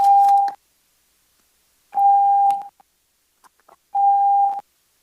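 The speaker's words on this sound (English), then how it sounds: "We got alarms going off everywhere." Loud electronic alarm tone sounding in three long beeps about two seconds apart, steady and piercing, in a city council meeting chamber in Paso Robles, with brief quiet gaps between.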